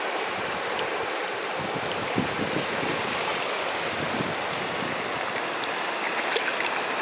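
The Acaraú river at Sobral running high in flood, a steady broad rush of fast water that stays constant throughout, with light wind buffeting and no voices.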